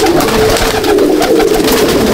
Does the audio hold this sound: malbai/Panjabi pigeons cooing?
yes